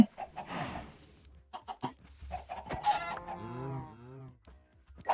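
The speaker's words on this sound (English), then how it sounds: "Might be time to thin out the chickens." Chickens clucking in a Minecraft-style video game farm, a busy mix of short clucks and a rising crowing call toward the end, close and fairly loud with no talking.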